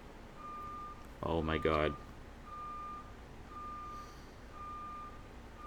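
A cherry picker crane sounds a steady series of evenly spaced electronic warning beeps from a short distance, while someone briefly speaks over them.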